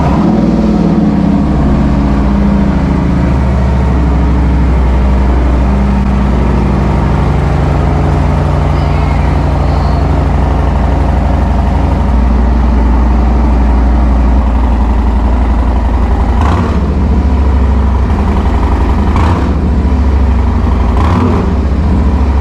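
A motorcycle engine fitted with a Bassani 2-into-1 exhaust and Heavy Breather Extreme air cleaner runs loud and close, a deep, continuous throbbing idle that holds steady for over twenty seconds, with a few brief sharper blips late on.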